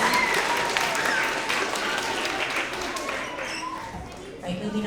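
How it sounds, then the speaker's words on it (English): An audience at a school winter award assembly applauds the 3rd grade students, a dense, steady wash of clapping that slowly fades, with voices mixed in. "let's give another round of applause for all of our 3rd grade skilled collaborators"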